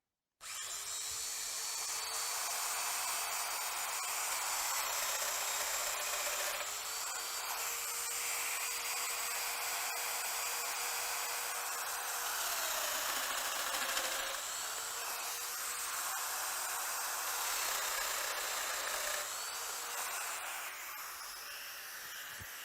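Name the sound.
Festool Domino joiner cutting holes with 8 mm cutter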